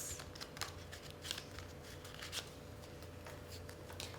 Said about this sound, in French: Je pioche mes 3 cartes et je mets ma carte supporter dans ma pile de défausse